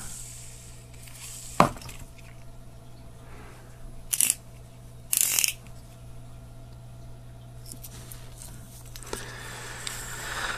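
Light clicks and clinks from an Abu Garcia Revo MGXtreme 2 baitcasting reel with a carbon fiber star drag, a few brief separate bursts close to the mic over a quiet background hum.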